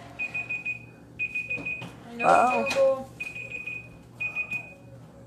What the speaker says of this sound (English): I didn't even know it had an alarm on it.